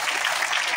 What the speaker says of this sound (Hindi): तो इनके लिए जोरदार ताली।